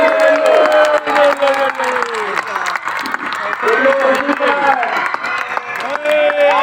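An audience breaks into steady applause mixed with crowd cheering and voices, a dense continuous wash of clapping and chatter lasting throughout.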